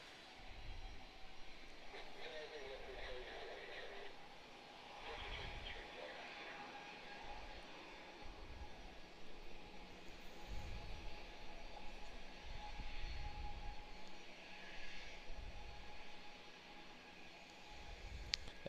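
A Fiji Airways Boeing 737 airliner taxis at Brisbane Airport, its steady engine rumble and whine filling the scene at moderate distance, with people talking intermittently over it.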